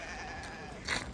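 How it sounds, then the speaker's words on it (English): A sheep gives one brief, faint bleat near the end, far off over outdoor background noise at a waterfall in Oaxaca. "It's a sheep."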